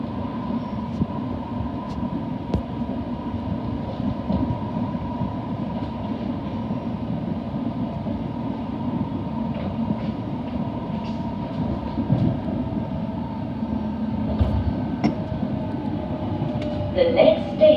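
A Piccadilly Line London Underground train rumbles steadily along the tracks from start to finish, a continuous low roar with a faint electric whine and a brighter screech rising near the end.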